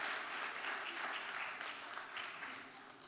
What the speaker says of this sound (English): Let's give our parents and family members a round of applause